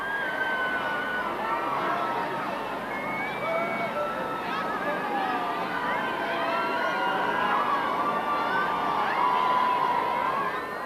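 Outside Clarence House on a royal wedding day, a large crowd cheers and shouts without a break, a dense roar of many voices with high whoops and calls, steady and loud throughout.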